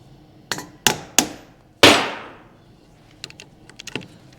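Hammer blows land on the rear wheel hub axle of a 2011-2016 R60 Mini Cooper Countryman: three sharp strikes, then a heavier ringing hit, followed by lighter taps and clinks nearby.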